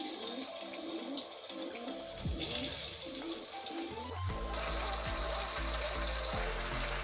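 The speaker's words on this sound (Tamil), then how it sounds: "இப்போ நம்ம மிக்ஸ் பண்ணி வச்சிருந்த மஷ்ரூமை இதில் ஆட் பண்ணி ஃப்ரை பண்ணி எடுத்துடலாம்." A seasoned mushroom mix goes into hot oil. Quieter clattering and pouring give way to a loud, steady, close sizzle that fills the second half, with no voices.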